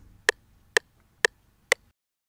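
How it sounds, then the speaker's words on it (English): Software metronome in FL Studio clicking at 125 BPM: four sharp, evenly spaced clicks, crisp and close, with nothing else behind them. "when I turn on my metronome, it will sound like this"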